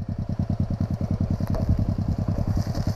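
Minimoto ProTork TR100 dirt bike engine on a rural trail, running close with a steady rapid thumping idle-like rhythm, loud and continuous with clattery mechanical texture and no talk.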